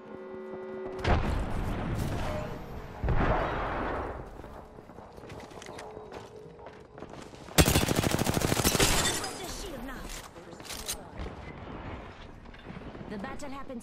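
Video game gunfire breaks out in a sharp, loud burst partway through, dense rapid shots over a cluttered battle soundscape, with voices talking before and after.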